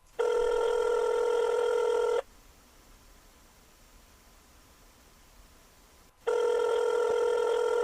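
Electronic ringing of a phone call over the Signal app, a loud steady tonal ring lasting about two seconds, a pause of faint hiss, then the ring starting again.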